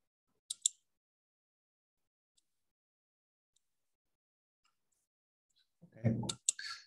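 Computer mouse clicks in drafting software during a drag: a sharp double click near the start, a few faint ticks in a quiet stretch, then more clicks mixed with brief sounds at the end.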